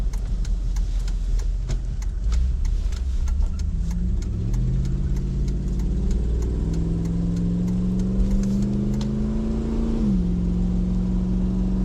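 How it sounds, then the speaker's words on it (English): A 2005 Dodge Ram with a 5.7 Hemi gas engine runs close by with a loud steady rumble, revving up smoothly in a rising pitch before dropping back, with a ticking clatter throughout. "Sounds really nice for a gas motor."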